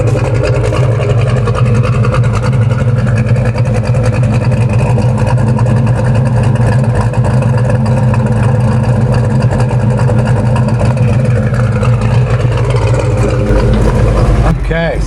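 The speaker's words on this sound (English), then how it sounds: "We're out for a ride in red car, Monte Carlo." A red Monte Carlo's engine runs loud and close from inside the car, a steady rough idle and drone with a muffled voice underneath, ending in a brief clunk.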